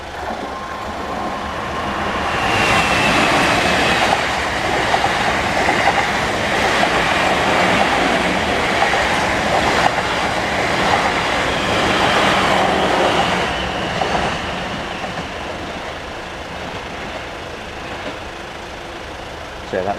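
A London Waterloo to Weymouth passenger train passes a Southampton level crossing, a long swelling rumble with rhythmic wheel clatter that builds, holds loud for several seconds and then fades.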